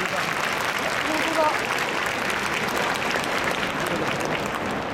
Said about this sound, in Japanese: 皆様どうぞ盛大な拍手でお迎えください